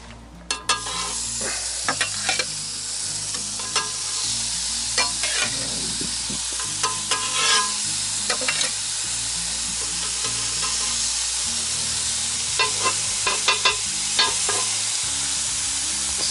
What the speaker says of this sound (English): Let them get a good sear before we try to turn them.